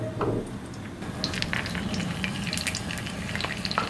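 Shrimp lumpia fry in hot oil with a steady, close sizzle, broken by scattered sharp crackles and pops throughout.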